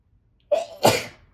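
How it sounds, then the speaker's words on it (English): A single sharp sneeze with a short intake and a loud burst, close to the microphone, alone in quiet. "I knew I was going to sneeze"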